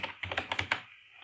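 Rapid keystrokes on a computer keyboard, about six or seven close, crisp clicks in a quick burst, then a pause.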